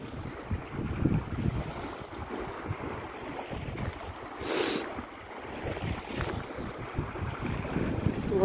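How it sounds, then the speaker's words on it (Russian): A calm river flows past the shore on a March walk, a steady soft wash of water under gusting wind buffeting the microphone, with no voices. "Вот такая вот успокаивающая река."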